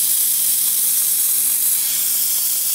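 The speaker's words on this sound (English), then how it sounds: "steam pressure holding well." A Wega Mininova espresso machine's steam wand hisses steadily for a few seconds, a loud, even, close-up rush of high-pitched noise with no talking.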